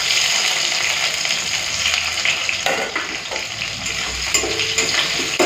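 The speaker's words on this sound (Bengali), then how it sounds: "পেঁয়াজটা একটুখানি ভেজে নিই" Chopped onion frying in hot mustard oil with whole cumin, dried chillies and bay leaf, a steady close sizzle with occasional stirring scrapes and no talking.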